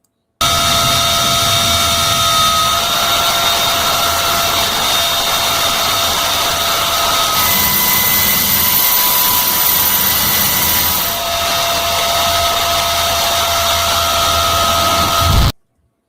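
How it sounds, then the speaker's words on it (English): A helicopter flying in, giving a loud, continuous turbine whine over a deep rotor rumble, with steady tonal hums that shift pitch partway through before cutting off abruptly. "They fly in on their helicopter"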